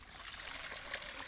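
Cold water trickling from a pipe in a forest, a soft, continuous babbling flow, faint and close, with no talk over it.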